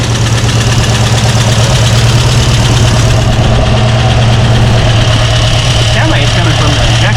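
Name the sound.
car engine idling after Holley Sniper 2 fuel injection install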